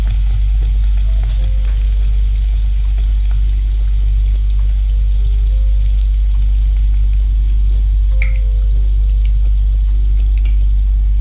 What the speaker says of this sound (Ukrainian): Спочатку олію розігріваю добре, а потім на невеличкому вогні ось так смажу.